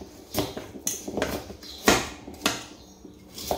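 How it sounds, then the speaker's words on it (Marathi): A knife chops jaggery into small pieces for peanut chikki, giving about six sharp, separate cutting knocks at irregular intervals, close and clear, with no voices. "आता मी गुळ एवढासा आपल्या सुरीने कापून घेतलेला आहे"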